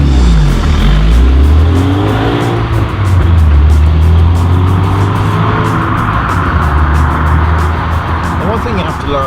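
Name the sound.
VW Golf GTi Mk3 8V engine accelerating through gears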